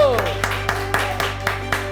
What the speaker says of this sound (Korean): 주께 영광의 박수로.